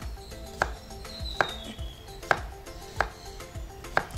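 A knife chops zucchini on a cutting board in an outdoor kitchen, giving five sharp, evenly spaced knocks about a second apart over a soft background hum.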